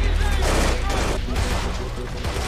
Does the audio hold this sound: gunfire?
yes